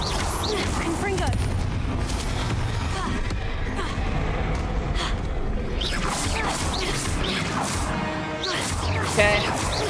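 Confringo spell blasts crackle and smash in the Hogwarts Legacy video game, a dense run of explosive bursts, whooshes and impacts in busy combat, loud and continuous with a sharper crash near the end.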